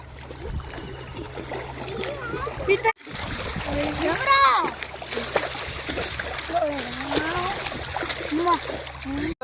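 Water splashes repeatedly in a village pond as people swim, close and irregular, under children's excited chatter and shouts.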